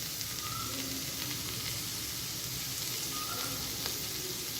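Softened vegetables for chow mein fry in a pan with an even, continuous sizzle and hiss. The sound stays close and steady throughout, with faint stirring and no voices.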